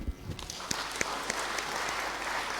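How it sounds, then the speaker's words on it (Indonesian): Church congregation at a Sunday Advent service clapping, a soft, fairly distant steady patter with a few sharper claps standing out. "Kita berikan tepuk tangan"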